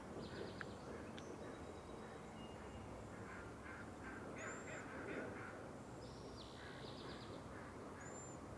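Mallard ducks call faintly in a distant marsh, with scattered short quacks and honking calls over a steady wash of outdoor background noise, plus a few thin higher bird chirps.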